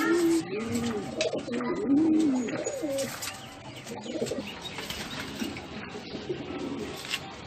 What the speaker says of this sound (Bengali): কালাঙ্কা পায়রা তো এটা,